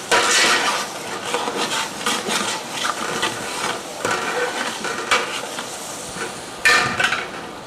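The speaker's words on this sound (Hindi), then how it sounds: "अब इस मसाले को थोड़ी देर पकाएंगे। इसमें शामिल करेंगे सब्ज़ मिर्च।" Masala with green chillies cooking in a pan for degi palo, with repeated scraping and clacking stirring strokes over a faint sizzle, close and uneven in rhythm.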